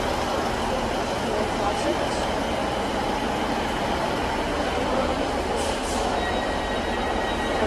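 Northern class 156 diesel unit pulling out of Sunderland station, a steady loud rumble of engine and wheels filling the whole stretch, with faint higher squeals briefly near the end.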